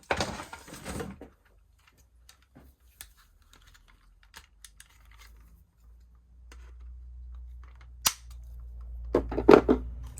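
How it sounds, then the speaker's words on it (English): A little pair of pliers snips leftover plastic off an RS3 8V air vent being fitted to an Audi RS3 8P, giving a loud crack at the start followed by sparse, sharp clicks and small snaps close by. "So now I will literally either try and crack it like this or get a little pair of pliers,"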